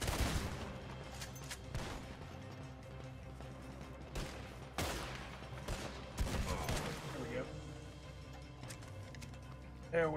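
Gunfire in the video game Red Dead Redemption 2, including shotgun blasts, with sharp scattered shots over a low, busy game soundscape, some louder bursts near and others softer, with voices faintly in the background.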